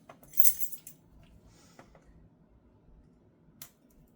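A ring of metal keys jangles close by while a package is opened, a bright burst of clinking near the start followed by a few scattered light clinks and a final short jingle.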